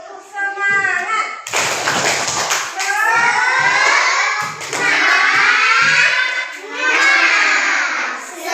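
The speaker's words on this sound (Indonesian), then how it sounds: "Untuk lebih semangat kita belajar, kita tepuk semangat." A class of children claps the rhythmic 'tepuk semangat' pattern in a sequence of quick bursts, with children's voices chanting along over the claps.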